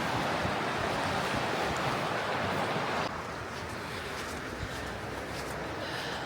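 Water of the Lochsa River rushes steadily past a campsite, a broad continuous hiss and roar heard close by with some wind noise on the microphone, dropping slightly in level midway.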